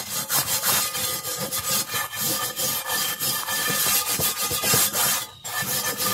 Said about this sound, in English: This is the best fine wire brush we have around.